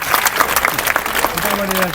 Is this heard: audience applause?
yes